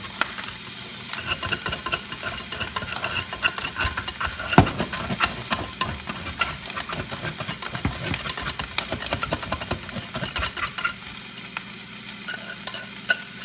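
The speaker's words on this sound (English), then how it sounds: "Just constantly stir them. You can use a spoon, but I prefer a whisk." Eggs being whisked constantly in a hot pan, a fast rattling scrape of whisk on metal over a continuous sizzle, close and busy throughout.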